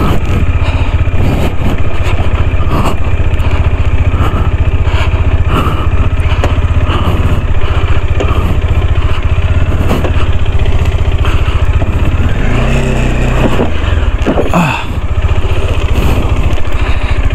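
A small 125–150cc motorcycle engine runs continuously on a trip in Abra, a loud, close, buzzing drone with a steady throb and slight pitch shifts, carrying on throughout with no voices.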